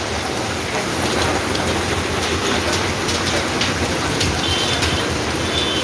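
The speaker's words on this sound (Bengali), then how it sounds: "প্রচুর বৃষ্টি হচ্ছে।" Heavy rain pours steadily during a storm in Sylhet, where people shelter on shop verandas; a dense, unbroken hiss of downpour with faint clattering underneath, loud and continuous throughout.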